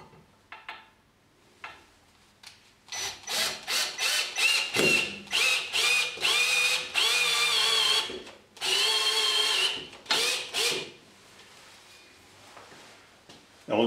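A power drill drives long screws through a metal angle bracket into wall plugs, whirring in a run of short, rapid bursts with brief pauses, close and loud.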